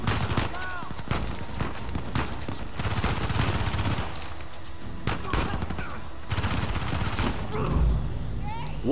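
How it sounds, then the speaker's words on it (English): Dense, chaotic gunfire from the Uncharted 4 video game on Crushing difficulty, with repeated bursts and overlapping shots amid explosions and game noise throughout. "What gun was that? That killed me quick."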